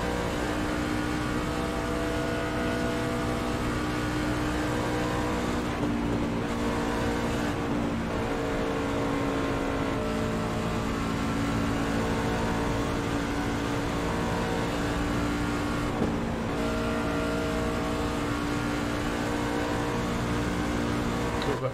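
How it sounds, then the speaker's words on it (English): A BMW M8 GTE race car in iRacing, running the Daytona Oval, holds a steady, loud engine drone for the whole stretch with no break and no talk. "Boy, this car's noisy."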